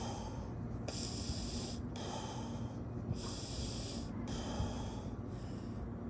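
Slow belly breathing demonstrated for a soccer player, with deep, loud breaths in and out in a steady rhythm of about four long airy strokes, close to the mic, with no talking.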